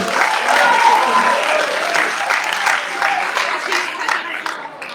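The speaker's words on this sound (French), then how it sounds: "On peut l'applaudir quand même." Audience applause at a crisis-management student competition event, steady massed clapping that stays full for most of its length and gradually thins toward the end.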